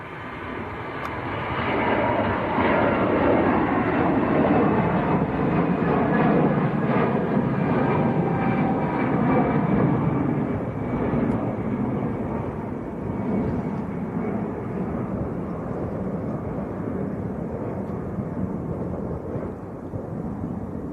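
An EasyJet airliner powering down a runway at Manchester Airport on a windy day, a loud, sustained engine roar with buffeting wind rumble that holds strong before slowly tapering, with no voices over it.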